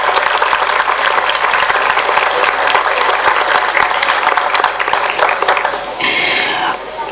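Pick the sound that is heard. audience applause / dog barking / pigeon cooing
audience applause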